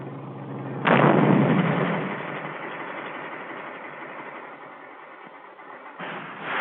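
A 1943 US Army M6 bazooka anti-tank rocket fires from its battery-powered launcher with a sudden loud blast, followed by a long roaring rush that slowly fades, then a second burst near the end, with no talk.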